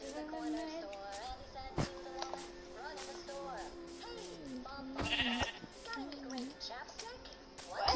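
Sheep bleat in a video game, with several short wavering bleats mixed in among children's chatter and small taps, fairly quiet overall.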